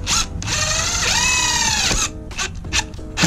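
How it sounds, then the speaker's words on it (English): A power drill drives a self-tapping screw into a car's side skirt during a widebody kit install on a Ford Fiesta ST, whirring steadily for about two seconds at close range, followed by short bursts and clicks. "I'm just gonna throw a self-tapper right here, set it, and forget it."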